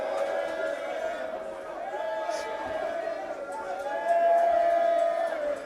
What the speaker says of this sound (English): Mr. John Laryea stealing all the applause here at the Idro White Center in Dansoman, Accra